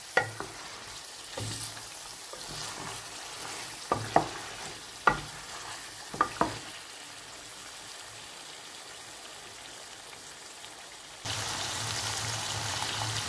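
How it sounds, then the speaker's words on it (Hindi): Chicken frying in spice masala in a pan for chicken kaddu: a soft, steady sizzle with a few sharp clicks and stirring knocks, close but quiet, and the frying grows louder near the end. No one speaks. "दो से तीन मिनट इसको भूनेंगे मसाले के अंदर।"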